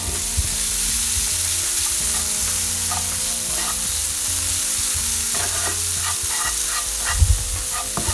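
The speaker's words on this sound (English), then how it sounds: "it's extremely important to reduce the heat and add in some tofu" Tofu hits a hot pan of spices for a vegan Indian stuffed paratha filling, sizzling and frying steadily while a spoon stirs and scrapes through it, close and loud with no talking.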